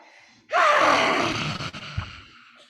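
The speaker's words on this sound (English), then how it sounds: "open your mouth. And have some demon breath" A single forceful open-mouthed exhale, a loud breathy rush close to the mic that lasts about two seconds and then fades, followed by a small soft thump.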